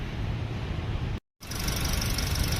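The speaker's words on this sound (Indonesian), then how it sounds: "Suara mesin ini teman-teman macam suara jangkrik, tik." An automatic 2017 Toyota Calya's Dual VVT-i engine idles with a steady, broadband hum and faint ticking, cut by one brief full silence midway, then resuming.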